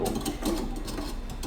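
A dough mixer or electric beater works cake batter as flour goes in, a steady whirring mechanical drone with faint rhythmic rattling throughout, close and continuous.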